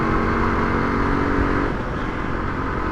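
A Kawasaki KLR 250 single-cylinder motorcycle engine runs hard at wide open throttle, a loud continuous harmonic drone that holds steady for a moment and then drops slightly in pitch as it settles.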